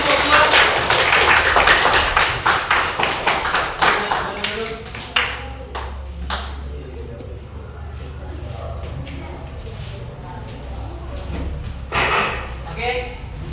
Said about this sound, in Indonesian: tepuk tangan nak untuk kelompok